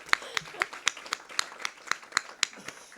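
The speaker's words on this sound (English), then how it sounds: "Let's give him a round of applause" Steady, evenly spaced claps from a small group at a school board of education meeting, crisp individual hand strikes about four per second with little crowd wash behind them.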